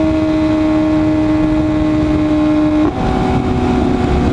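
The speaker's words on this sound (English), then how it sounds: "these bikes have a lot of torque. He's got a stock exhaust too." Kawasaki Z900 motorcycle with stock exhaust riding fast, a loud steady engine drone with sustained tonal whine that shifts pitch abruptly near the end, heard close and continuous without talk.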